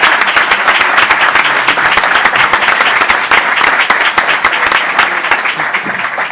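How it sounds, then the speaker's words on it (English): A large crowd at a political event breaks into loud, sustained applause, dense rapid clapping filling the whole stretch without a pause. "Let's give her a round of applause."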